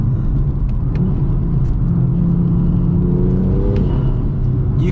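Modified 450 bhp BMW M2 engine heard from inside while driving, a steady loud low rumble and whir with a slight rise in pitch as it pulls, and no talking.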